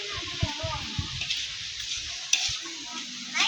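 Vegetables for lumpiang gulay, seasoned with fish sauce and black pepper, sizzle steadily in a hot pan with a bright hiss, punctuated by soft stirring knocks and faint voices nearby.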